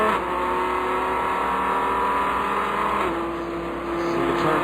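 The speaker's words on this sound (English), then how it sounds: "you see the Ferrari off there under heavy braking" Ferrari race car engine at Sebring during the 12 Hours endurance race, a steady high-pitched howl heard from a distance with a shift in pitch midway as the car brakes hard.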